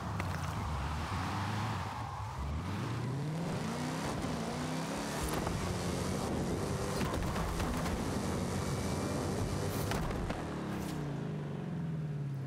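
Car engine driving in the Forza Horizon 5 racing game, a steady loud drone with shifting revs and gear changes running throughout, heading into a stadium.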